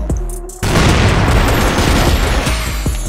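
A grenade blast in the shooter game CrossFire: after a short quieter moment, a sudden loud boom bursts in and rolls on as a sustained, roaring wash of noise with scattered shots.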